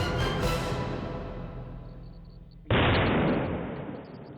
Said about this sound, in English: Minutes later, the second grenade detonated.